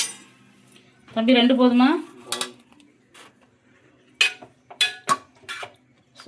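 A ladle clinks against pots while gravy is served with puris in a home kitchen, making a few sharp, separate metallic knocks close by, with someone speaking between them.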